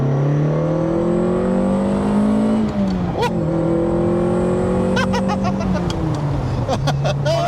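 The engine of a Ferrari 308 GTS pulls hard in second gear, its loud, steady drone rising in pitch, easing briefly at a shift-like dip, then climbing again, heard from inside the car with faint clicks and rattles.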